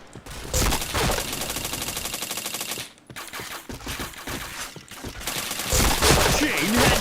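Rapid bursts of video game shooter gunfire, sustained automatic volleys with a brief pause near the three-second mark, loud and dense throughout, with faint voices underneath.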